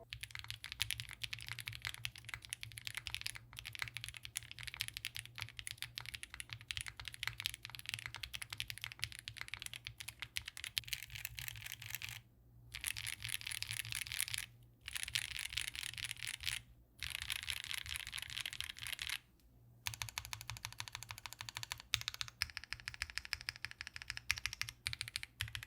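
Continuous typing on a custom mechanical keyboard with GMK Vaporwave ABS keycaps and foam under the PCB, a close, dense stream of clacky keystrokes broken by a few brief pauses.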